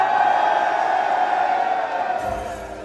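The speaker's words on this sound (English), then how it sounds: "Everybody in the crowd, I need you to make noise on the count of three" Concert crowd at a live rap show in Washington D.C. cheering and roaring on cue, a dense sustained wash of voices and whoops that holds loud and steady, then eases slightly near the end.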